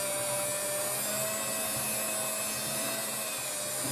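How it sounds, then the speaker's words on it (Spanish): Electric stand mixer kneading panettone dough with chocolate chips, a steady loud motor whir with a constant hum and rubbing churn throughout, no voices. "En mi caso me voy a ayudar de una amasadora eléctrica"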